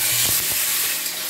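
Potatoes dropped into hot sunflower oil with a black pepper tempering in a kadai, giving a steady broad sizzle and frying hiss that stays loud and continuous throughout.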